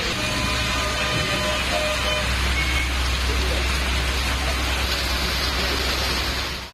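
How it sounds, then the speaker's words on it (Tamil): Heavy rain pours steadily over a town area in Chengalpattu district's Maraimalai Nagar, a dense, continuous broadband hiss that stays loud and even throughout with no pauses. "நேற்று மாலை 1 மணி நேரத்திற்கு மேலாக மழை வெளுத்து வாங்கியது"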